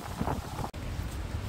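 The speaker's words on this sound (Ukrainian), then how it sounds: "Ну бачите, що коїться, який вітер." Gusty wind on a seaside promenade in Chornomorsk buffets the microphone in a continuous low rumble, with a momentary dropout partway through and no talking.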